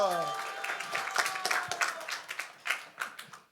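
A church congregation applauds at a conference testimony sharing, scattered hand claps of moderate loudness over a fading sung or spoken tone.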